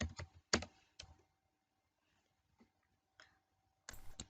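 Keyboard typing on a computer, a few scattered bursts of close key clicks separated by pauses, with a faint steady hum underneath.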